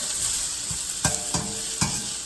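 Broccoli frying in a pan for chow mein, a loud continuous sizzle broken by three or four sharp stirring scrapes close up.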